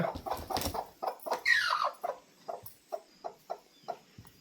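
A native (country) hen clucks in a steady series of short, evenly spaced calls, close by, after a brief burst of busier squawking at the start.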